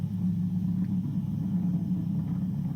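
Falcon 9 rocket engines rumble during ascent just after max Q as they throttle back up toward full power, a continuous deep roar that stays steady and dense throughout.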